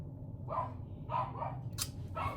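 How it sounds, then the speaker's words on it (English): A dog barks several times in a row indoors, the sharp barks spaced about half a second apart and fairly close, over a low steady background hum. "my dog is barking like crazy"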